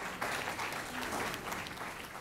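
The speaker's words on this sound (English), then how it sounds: "But let's give them a big round of applause to thank them." A round of applause from the audience at an alumni career panel at Fairfield University, a steady dense wash of clapping that holds for the whole stretch with no talk over it.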